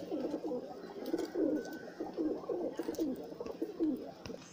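Several high-flying pigeons coo in low, throaty rolling phrases, overlapping and repeating steadily at close range.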